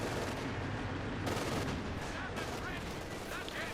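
A Panther tank fires during a Company of Heroes 2 match, with sharp cannon and gunfire reports cutting through a dense, continuous battle din, heard under a commentator's talk.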